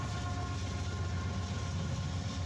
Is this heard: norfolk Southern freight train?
yes